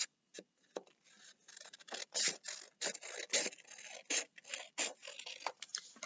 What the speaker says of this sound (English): I'm going to go ahead and cut this top part off first